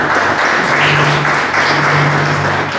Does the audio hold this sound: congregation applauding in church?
yes